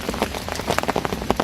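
Heavy rain pelts the surface of an estate fishing lake, a dense patter of close, irregular drops with no voices.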